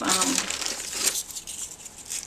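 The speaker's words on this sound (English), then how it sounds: "I'll be pulling things out of this bag" Paper cutouts rustle and crinkle as they are pulled from a bag, a close, continuous crackling that softens after the first second.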